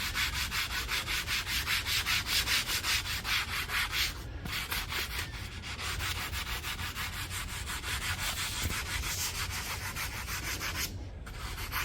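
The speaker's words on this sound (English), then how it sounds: "I'm just scuffing it lightly" Faded, oxidized plastic trim being lightly scuffed, a steady close rasping rub that carries on with brief pauses and no talking.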